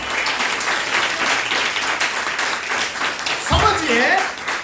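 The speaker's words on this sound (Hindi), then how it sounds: "ताली बजाइए परमेश्वर के लिए।" A church congregation breaks into applause during a Palm Sunday service, a steady wash of many hands clapping at moderate loudness that swells near the end, with voices mixed underneath.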